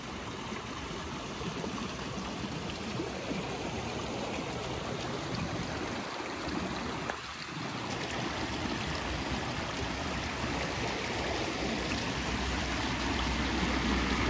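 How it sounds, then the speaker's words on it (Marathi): Water in a village brook in the Konkan countryside runs in a steady, continuous rush that stays close and fairly loud throughout, with no voices over it. "पाणी आता वाहत वाहत येतं"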